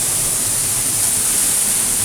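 Eas Mor, a fast-falling waterfall, heard from a distance as a constant broad hiss of rushing water, steady and fairly loud with no voices.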